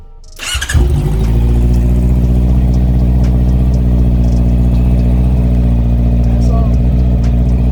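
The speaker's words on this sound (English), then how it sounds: "Okay, so now I'm gonna start the bike." A Honda CBR650R motorcycle fires up on a dyno setup, cranking briefly before catching into a loud, steady idle with a dense harmonic engine drone that holds evenly to the end.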